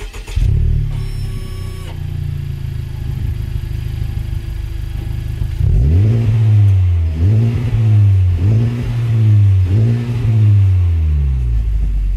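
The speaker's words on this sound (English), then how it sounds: "I'm not a big fan of the exhaust. Do you guys want to hear it real quick? Just give you guys a couple revs." Honda Civic Type R with its stock exhaust idles with a low steady burble, then after a brief pause is revved four or five times in quick succession, each rev rising and falling sharply, close and loud.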